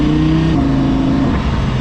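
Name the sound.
Audi R8 race car driving on the street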